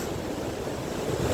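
Yosemite waterfall pouring down granite rocks, a loud, steady roar of rushing water with wind buffeting the microphone, no voices.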